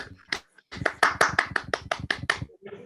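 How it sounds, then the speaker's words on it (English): A small group of people clap at an online conference opening session after a student dance performance, producing a short run of distinct, close, fairly regular claps that starts unevenly and then fades out. "We can hear some clapping."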